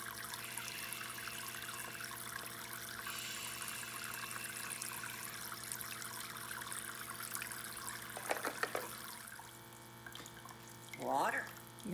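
A tap runs into a kitchen sink while dishes are washed, a faint steady trickle of water that continues throughout, with a brief clatter and a short voice near the end.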